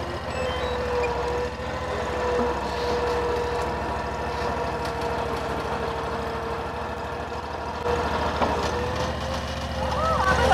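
A Ventrac 4520 mower's engine runs steadily after a key start, a constant mid-pitched drone close by with a faint beeping alert on top; no one speaks over it.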